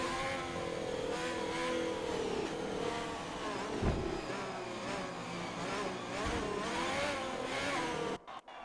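Ferrari race cars lapping a Spanish circuit in a racing league, their engines a continuous high whine that rises and falls through gear changes, moderately distant and without voices.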